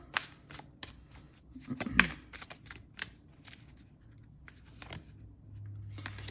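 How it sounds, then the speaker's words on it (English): Oracle cards from the Work Your Light deck are shuffled by hand in a quiet room, a close, soft flurry of riffling and tapping bursts with brief pauses, ending in a low steady hum. "I'm actually being guided to pull from the Work Your Light deck here."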